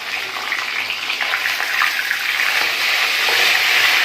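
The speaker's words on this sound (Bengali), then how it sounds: "এই দেখো একটা করে মাথা ভাজতে হচ্ছে" Large fish heads fry in a crowded pan, one at a time, giving a loud, close, continuous sizzle and hiss that swells slightly over the few seconds.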